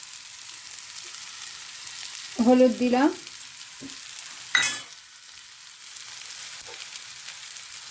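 Onion and tomato sizzle steadily in a pan of oil for a spinach dish, a continuous soft hiss broken by a couple of brief stirring clatters and a short spoken remark.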